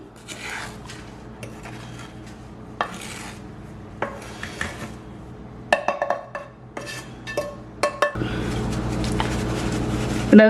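Cooled roasted rice flour for puttu is sifted through a metal sieve, with repeated rasping, tapping and clinking bursts that grow denser and louder toward the end.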